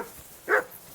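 A single dog bark in the medieval village of Kingdom Come Deliverance II, one short loud yelp standing alone against quiet background ambience.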